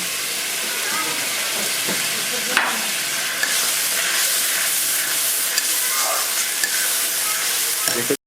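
Coriander and cumin paste hits a hot pan of oil while cooking a Bengali spicy fish curry, giving a loud, steady broadband sizzle with occasional spatters and soft scrapes from stirring throughout.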